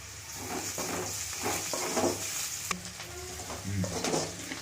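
Onions sizzle and fry in a pan of oil for an ivy gourd gravy, with a steady hiss broken by the scrape of a spoon stirring them, close up and without talk.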